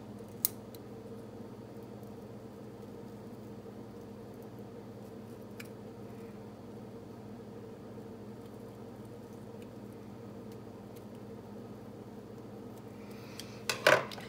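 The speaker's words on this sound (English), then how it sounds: "So let's quickly cut this guy out." Scissors snip out a paper icon from a printable planner kit, with a few faint isolated clicks early on and a short cluster of close cutting snips near the end over a quiet steady hum.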